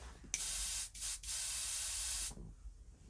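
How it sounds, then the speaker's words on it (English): An airbrush sprays paint in two long, steady hissing bursts separated by brief pauses, close up and loud, with no voices. "still got paint in this damn airbrush"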